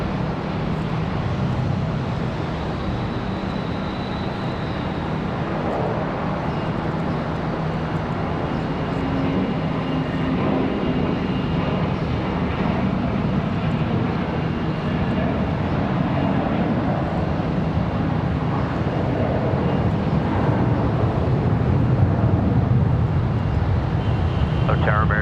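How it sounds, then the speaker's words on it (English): An ERJ regional jet touching down at Charlotte Douglas International Airport, a constant broad roar of engines and rushing air holding steady at a distance, with radio chatter faintly underneath. "ERJ this time for touchdown at center."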